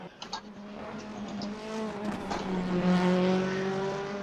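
DTM racing cars whine at high revs with rising engine pitch and faint tire noise, a steady mechanical drone from racing game audio.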